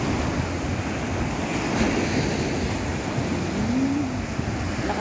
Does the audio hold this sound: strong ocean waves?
yes